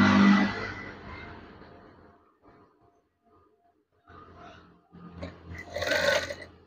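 A sewing machine stitches fabric for a curtain in short bursts of whirring motor and needle clatter, broken by pauses, heard close and fairly quiet with no speech.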